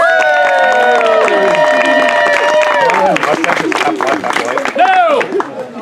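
Audience at a community theatre performance of Shakespeare's The Tempest breaks into clapping and cheering, with raised voices and whoops over the hands, loud and lively, turning into rougher, scattered clapping toward the end.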